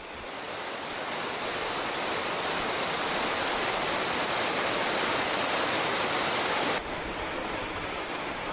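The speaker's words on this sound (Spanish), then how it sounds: "mientras su cauce se precipita en torbellinos y remansos, el agua hace escuchar su voz transparente y delgada" River water rushing through eddies and calm pools near Negreira on the Camino de Santiago, a steady broadband wash that holds loud and close throughout, with a high hiss shift near the end.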